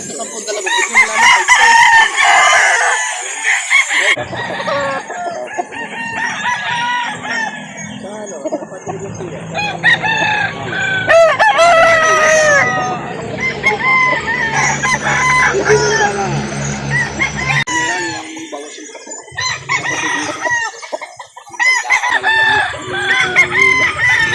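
Several roosters crow repeatedly at a cockfighting venue and rooster market in Calauan, Laguna, with clucks and overlapping calls, near and loud, amid a busy crowd murmur.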